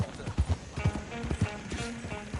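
In Red Dead Redemption 2, hooves from a horse-drawn coach clip-clop at a steady trot, close and fairly soft, with faint talking beneath.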